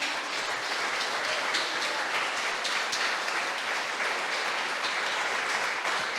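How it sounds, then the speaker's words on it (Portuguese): A church congregation breaks into steady, dense applause that stays even throughout, heard from within the crowd. "Você pode aplaudir a Jesus novamente?"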